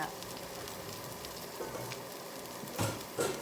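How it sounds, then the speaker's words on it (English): Cauliflower rice fries in a pan with a soft, steady sizzle, a quiet continuous hiss broken by a couple of faint scrapes near the end. "then we're gonna fry the cauliflower rice"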